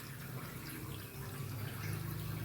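Hot water poured into a pot of village-style chicken curry, a steady close gush and splash of liquid that continues throughout with no talking.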